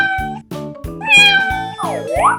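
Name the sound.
cat meowing in a 3D animal slide video game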